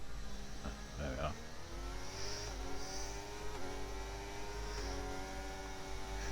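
A race car engine in the racing game RSF on the Las Vegas track, heard as a faint droning whine that climbs in pitch through several gear shifts over a low background hum.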